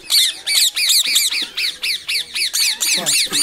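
Green parrots squawk over and over in an aviary, a dense run of harsh, rapid calls from several birds close by, with faint human voices in the background.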